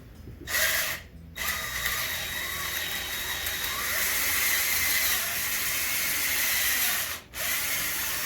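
Continuous grinding whir of a drill boring a pilot hole in wood, running steadily for several seconds with two brief pauses, close and fairly loud.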